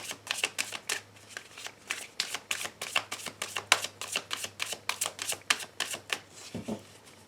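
Tarot card deck being shuffled and cut: a long run of crisp, rapid riffling flutters and soft slaps close by, steady and rhythmic, ending in a brief thump as the pack is squared.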